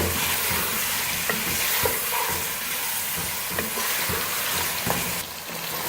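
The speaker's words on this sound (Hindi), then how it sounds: "चिकन को हम प्याज और जिंजर गार्लिक पेस्ट में फ्राई कर रहे हैं" Chicken frying with onion and ginger garlic paste in a pot for chicken chickpea pulao, a loud steady sizzle with occasional stirring scrapes close by.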